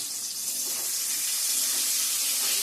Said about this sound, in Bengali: খিচুড়ি বানাবো, তো চালটা ধুয়ে রাখছি